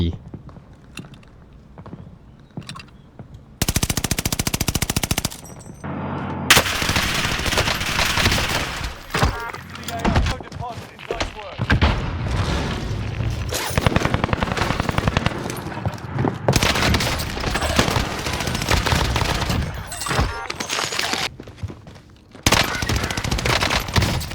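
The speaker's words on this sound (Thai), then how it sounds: "คลิปนี้เราอยู่กับปืน AS44" Rapid automatic fire from an AS-44 rifle in Call of Duty Warzone, loud sustained bursts separated by short pauses, with footsteps and movement between volleys and a voice speaking over parts of it.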